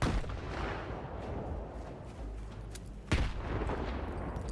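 Shotgun blasts in the video game S.T.A.L.K.E.R. 2, heavy booming shots over a dense rumbling game soundscape, with one sharp louder blast near the end.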